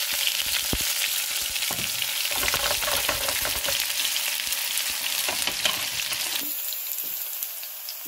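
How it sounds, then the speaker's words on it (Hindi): Green onions fry in hot oil with ginger for a tadka tempering for broccoli saag, a loud steady sizzle with some stirring scrapes that eases slightly toward the end. "ये मैं प्याज डाल के, ग्रीन प्याज डाल के उसका तड़का लगा।"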